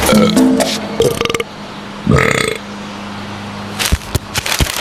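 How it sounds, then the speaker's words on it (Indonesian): Loud burps in a television advertisement about belching and bloating, several short bursts separated by pauses, with other brief sounds between them. "Sendawa dan perut kembung, perhatiin dong."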